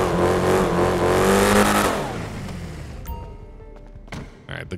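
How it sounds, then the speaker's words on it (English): Simulated car engine in GTA 5 with a modded sound revving hard and loud, the pitch climbing then falling away over about two seconds before settling into a quieter idle with a few clicks and bumps. "Look how the engine shake though."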